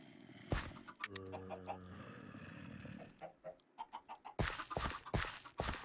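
Chickens in the Minecraft video game cluck repeatedly in short, sharp bursts, with a stretch of rhythmic clucking and a flurry of close, loud clucks toward the end.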